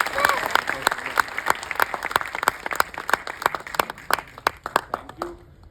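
Audience in a cinema hall clapping for an actor at a first-day screening of a Jayaram movie; sharp individual hand claps ring out steadily, close and fairly loud, with crowd chatter underneath.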